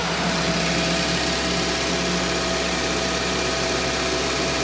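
A Honda Civic makes a steady, loud hum with a faint friction note while a wheel bearing is checked, unbroken and close throughout with no talk.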